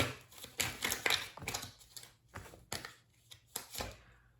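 Tarot cards are drawn and shuffled in a series of quiet, crisp snaps and riffles in irregular bursts, close and faint, with no talking.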